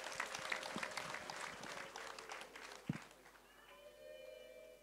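Guests at a Rwandan dowry introduction ceremony are welcomed with dense, lively applause that fades away, followed by a brief high ululating call near the end.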